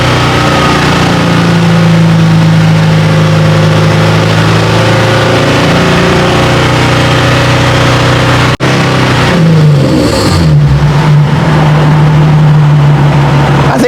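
A Nissan 370Z engine, fresh from a coolant bleeder port replacement, drones steadily up close with sustained revving. A brief click is followed by the engine dropping back toward a settling idle and then holding steady again.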